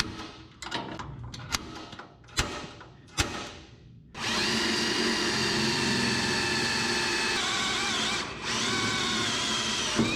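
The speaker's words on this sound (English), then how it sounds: "I'm going to drill about right there." A power drill bores into a steel bracket on a 1980 Chevrolet 4x4 truck, starting with a few sharp clicks and knocks of handling, then a loud, steady whine that runs continuously for about six seconds with a brief dip.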